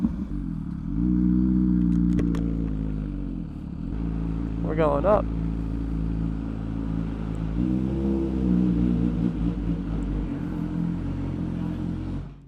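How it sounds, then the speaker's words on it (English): An MV Agusta Superveloce motorcycle fitted with new headers rumbles close by at idle, with a deep throaty drone that swells with a couple of short revs. People talk over the engine. "they wanted to check out this bike and the way she sounds and all with the new headers"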